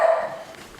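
A dog at home gives a single short bark or yelp, near and fairly loud at the start and then fading quickly.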